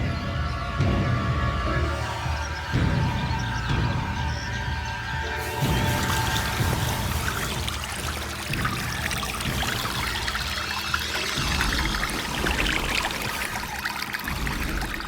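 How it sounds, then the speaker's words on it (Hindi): Water gushing out of a tank through a pipe, a steady loud pouring and splashing that runs continuously and grows broader and noisier partway through. "पानी खाली करना शुरू कर दो"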